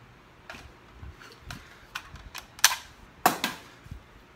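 A firearm bolt being worked back and forward and catching, a string of sharp metallic clicks and clacks, close by, with two louder snapping impacts near the end.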